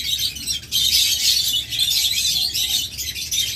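Pet birds in a shop chirp and twitter continuously in a dense, lively chorus, close and fairly loud throughout with no talking.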